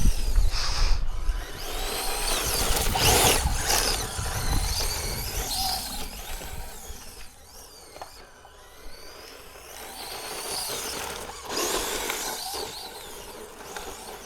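Honda Grom motorcycle engine revving hard during a wheelie, a high buzzing whine that rises and falls in several surges, loud and close with no talk over it.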